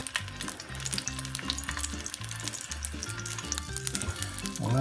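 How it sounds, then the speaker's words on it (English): Sausages fry in a pan for a traditional English breakfast, giving a continuous crackling sizzle at moderate volume, with a low steady hum underneath and a brief louder rustle at the end. "Pop the sausages in."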